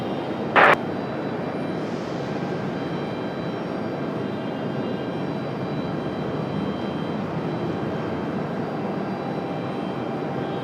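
A plane at Raleigh-Durham International Airport gives a steady, fairly loud broadband roar that holds unbroken throughout, with one brief sharp burst near the start.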